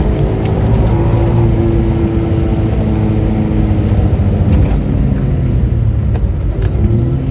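Inside a Suzuki Cappuccino with a turbocharged engine, the motor drones loudly and steadily as the car is driven on the road, with rising rev tones under a constant rumble and no speech.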